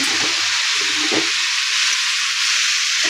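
Drumstick leaves go into a pan of fried onion, dried red chillies and salt, setting off a loud, steady sizzle and hiss that runs through the whole moment, with a few soft stirring knocks near the start.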